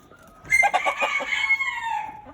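A large fowl Mottled Chocolate Houdan rooster crows once, close and loud, a drawn-out cock-a-doodle-doo lasting nearly two seconds, with no talking.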